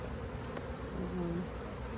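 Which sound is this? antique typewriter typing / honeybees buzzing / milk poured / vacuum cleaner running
honeybees buzzing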